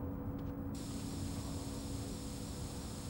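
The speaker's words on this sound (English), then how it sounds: "I'm gonna run out of spray." In the video game The Warriors, a spray can hisses in one continuous, fairly faint burst of airy noise that lasts a few seconds over a low background hum.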